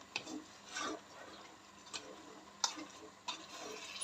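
Spiced spinach with chickpeas and lentils stirred in a pot, soft scraping with a few sharp utensil clicks against the pan and a low sizzle beneath, fairly quiet.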